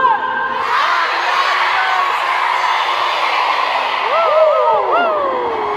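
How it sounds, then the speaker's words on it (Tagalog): A packed concert crowd at a show shouts a greeting in unison and then cheers loudly, with high whoops and screams rising near the end. "Pwede ba tayo sumigaw ng happy anniversary in 3, 2, 1!"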